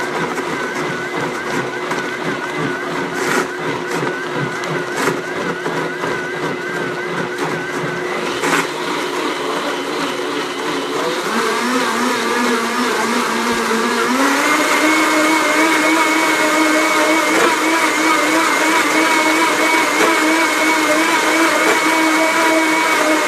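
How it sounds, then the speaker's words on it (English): A powerful blender grinds ginger, lemon, cucumber and wheatgrass, a loud steady motor whine that climbs in pitch partway through as the contents break down, running continuously for the whole stretch. "As you can see, this is a very strong blender."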